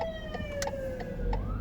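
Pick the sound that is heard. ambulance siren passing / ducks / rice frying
ambulance siren passing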